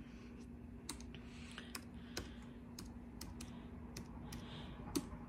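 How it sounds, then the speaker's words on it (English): Typing a search on a computer keyboard, a steady run of light, crisp key clicks at a quiet, moderate pace over a faint background hum, with no one talking. "I'm gonna just type in med-surg Lewis"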